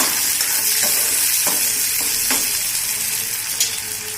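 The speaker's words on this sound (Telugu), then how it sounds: "ఇవి వేసి అల్లం వెల్లుల్లిపాయ పేస్ట్ పచ్చివాసన పోయేంత వరకు మగ్గించుకోవాలి" Ginger garlic paste sautés in ghee and oil in a pan, giving a steady, close sizzle with a few scattered stirring scrapes and taps.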